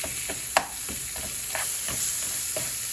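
Onions cooking down and caramelizing in a pan give a steady close hiss and sizzle, broken by a few short scraping stirs.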